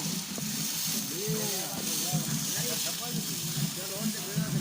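Ghee sizzling in a large pot while makhandi halwa cooks in a Pakistani kitchen, a steady hiss and crackle running throughout, with a voice talking over it.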